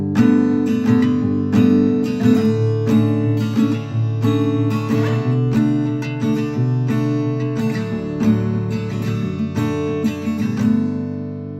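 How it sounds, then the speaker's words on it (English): Acoustic Yamaha guitar in open D tuning plays a simple strummed riff, the chord progression of an indie folk/pop song. Full, warm, ringing chords repeat in a steady rhythm, close and loud, with no talking. "I came up with a simple progression / riff that I based the whole song around"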